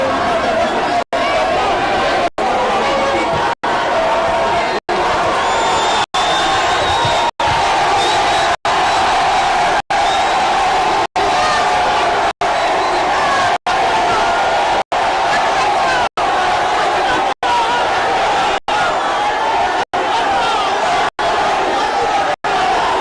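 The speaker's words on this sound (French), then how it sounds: "La foule amassée tout au long de la route lui a réservé un accueil délirant" Crowd lining the road to welcome the Congolese president in Kinshasa, a loud continuous roar of cheering and chatter, repeatedly cut off by abrupt edit breaks at regular intervals.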